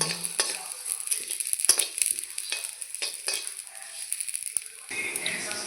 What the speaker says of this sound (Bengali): একসঙ্গে এইভাবে ভেজে নেব